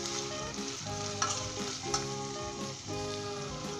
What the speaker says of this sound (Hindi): श्रेडेड चिकन डालना है इसमें। और जो है इसे 5 मिनट के लिए तो अच्छे तरीके से भुनेंगे